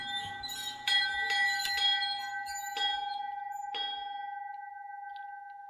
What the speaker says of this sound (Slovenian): Zvon želja izpolni vse želje